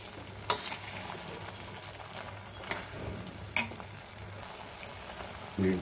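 Tomato chutney fries in a pan with a soft continuous sizzle, broken by a few sharp clicks of a spoon against the pan.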